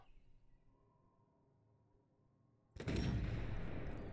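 Gunfire in the video game Sniper Elite 4, a single loud blast cutting in after quiet ambience and ringing out for over a second, with no talk.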